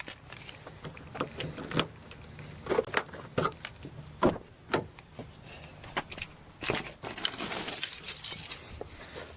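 A bunch of keys jangling in a series of sharp metallic clinks and rattles, close and fairly loud, coming in irregular bursts with short pauses between them.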